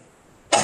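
A single short cough bursts out sharply near the end after quiet room tone, close and loud, in a legislative committee room.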